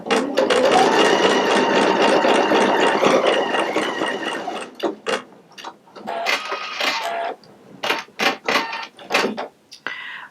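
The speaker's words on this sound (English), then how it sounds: "It says it's going to take 3 minutes to embroider out. Okay, I'm going to go ahead and press a start." A Pfaff Creative Icon 2 embroidery machine stitches steadily and loudly for about five seconds, a dense mechanical whir, then falls to a sparse run of short clicks and brief bursts as it slows and trims.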